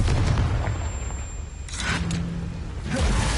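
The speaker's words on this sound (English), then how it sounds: "Confringo." A Confringo spell explosion in Hogwarts Legacy, a heavy booming blast with rumbling debris that fades, followed by a second impact near the end.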